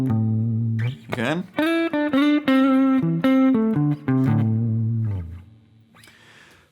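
An electric guitar plays a minor pentatonic lick low on the neck, with sliding notes between positions and sustained bends over about five seconds, loud and close, followed by a brief spoken word.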